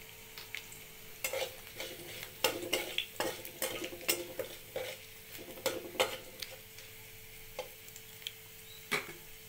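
A dried red chilli and half a spoon of five-spice seeds sizzle in mustard oil in a wok while a metal spatula clinks and scrapes against the pan at an irregular pace. The sounds are close and fairly loud, with no voices.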